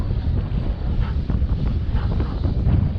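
Gusty wind buffets an outdoor microphone at a model airplane flying field, making a loud, steady, rumbling roar that rises and falls slightly, with no voices.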